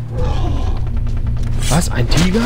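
A tiger roars in the jungle of the video game Far Cry 3, loud and sustained against game background sound, with someone talking over it near the end.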